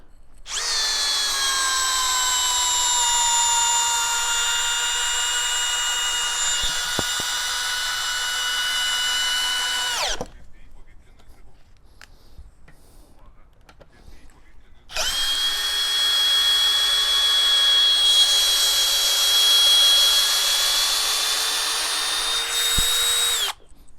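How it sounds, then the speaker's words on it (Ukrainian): A Metabo BS 18 L BL cordless drill runs at first speed, driving into pine with a high, steady whir for about ten seconds, pauses, then whirs again for another long stretch nearby. "Крутити будемо сосну. Так, перша швидкість."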